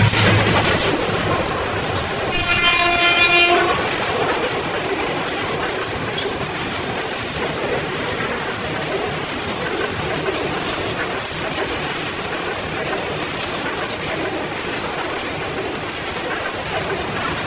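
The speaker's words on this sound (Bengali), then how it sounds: "টমটম করে ট্রেন রাস্তা দিয়ে ট্রেন আসতেছে" A train rumbles past with steady clickety-clack of wheels on rails and a brief horn blast early on, the rolling noise continuing throughout.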